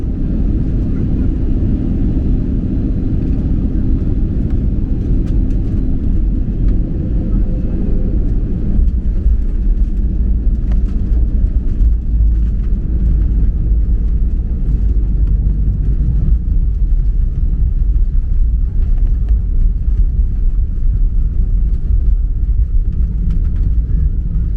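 Pegasus Airbus A320neo landing on runway 08 in Kyrgyzstan, heard from inside the cabin: a loud, steady roar of engines and rolling noise, with rumbling low thumps and rattles as the aircraft touches down and slows.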